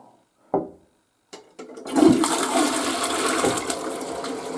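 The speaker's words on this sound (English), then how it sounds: "flushing toilet." A toilet flushes in an old French house, starting with a couple of small clicks and knocks before water rushes loudly and steadily through the bowl.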